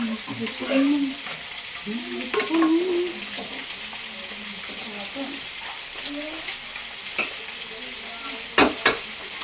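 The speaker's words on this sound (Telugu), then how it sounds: "ఇంకా చేపలు వేసుకున్నా ఇంకా చేపలు ఫ్రై చేసుకున్నాను" Fish frying in oil in a pan for a home-style fish curry, a steady hiss and sizzle throughout with occasional stirring clinks, while a voice speaks intermittently over it.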